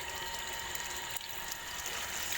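A washing machine running with water, a steady mechanical churning with ratcheting clicks and sloshing, close and continuous with no talk.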